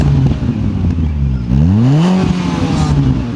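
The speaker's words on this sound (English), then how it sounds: "It's got a Regazon stainless steel exhaust, which does actually make it sound quite raughty and quite sporty." Fiat Panda 100HP fitted with a Ragazzon stainless steel exhaust, engine note rising and falling as it revs through a gear change, a loud, steady drone close to the car with no talking.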